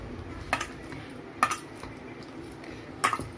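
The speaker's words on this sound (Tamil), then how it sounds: "நல்லா இழுத்து இழுத்து பிசைஞ்சுக்கோங்க" Hands kneading an oiled sweet lentil poli dough, stretching and pulling it, giving a few sticky slaps and soft squishes against a bowl or plate, close by, with quiet gaps between the sharper knocks.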